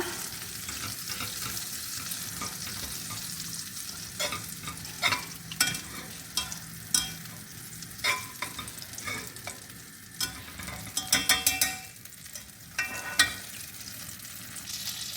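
Flour being stirred into melted butter in a pan for lasagna, repeated scraping and stirring strokes over a soft sizzle, irregular and close, with no talking.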